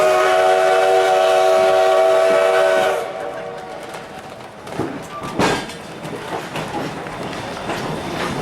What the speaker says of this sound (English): we hear one last whistle from our engineer